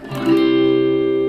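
A guitar strums a major triad on the first degree of a major key, a single chord ringing out loud and sustained with a bright, slightly effected tone and no voices.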